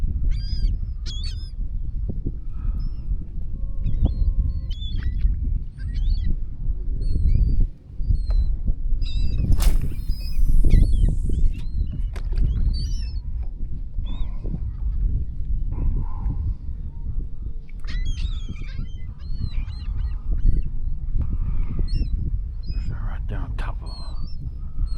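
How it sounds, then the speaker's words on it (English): A large flock of geese or ducks calls outdoors in repeated overlapping honks and quacks, some near and some farther off, over a constant low wind rumble. "There's so many birds out here."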